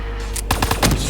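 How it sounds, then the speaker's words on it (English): Small in-game explosion in Black Ops 3 Zombies on the Der Eisendrache map, heard as a cluster of sharp, loud bursts that crack and rumble over steady game background noise. "Small explosion, small success."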